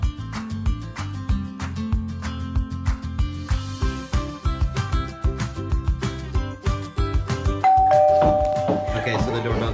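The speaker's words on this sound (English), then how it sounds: "so the doorbell just rang" A doorbell rings at a house on Thanksgiving, sounding over steady rhythmic music that fills the background, with a sustained chime tone near the end, fairly loud and close.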